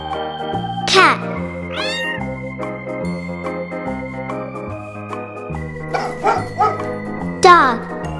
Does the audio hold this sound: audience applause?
no